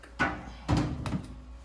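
A lower drawer on a GE oven slides back into place after an igniter replacement, with a few separate scraping thuds and a short rattle at moderate volume and no talking.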